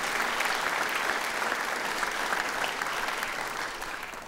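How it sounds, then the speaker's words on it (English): Dense, sustained applause from a legislative chamber audience at the opening of a Louisiana legislative session, a steady wash of many hands clapping that fades slightly at the end, with no talking over it. "Let's give Pixel Magic a round of applause for their commitment to Louisiana."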